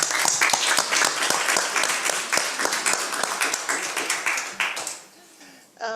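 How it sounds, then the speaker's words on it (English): Applause breaks out at a school board meeting, a mix of sharp individual claps that stays steady and fairly loud for about five seconds before dying away, with a few voices mixed in. "I think we should clap and celebrate this"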